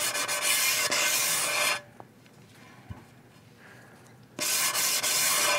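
A hand pad rubs a bevel onto the edge of a ceramic disc in a studio, giving two loud bursts of close, rasping sanding separated by a quiet pause.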